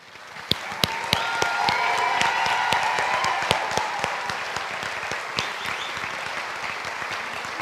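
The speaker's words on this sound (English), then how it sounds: "we're going to give you a big round of applause." A crowd applauds warmly at a physician assistant white coat ceremony, with dense, steady clapping and a few sharper individual claps standing out. It fades slightly toward the end.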